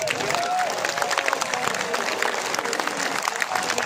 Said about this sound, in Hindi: क्या इस बात पे तालियां नहीं बजनी चाहिए?